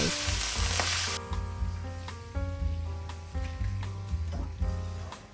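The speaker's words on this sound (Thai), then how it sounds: "ผัดไปเรื่อยๆจนกว่าเส้นจะสุกนะคะ" Noodles stir-frying in a hot wok with dark soy sauce, vegetable oil and added water, a loud steady sizzle with a burst of hiss at the start and repeated scraping, clattering strokes of the spatula throughout.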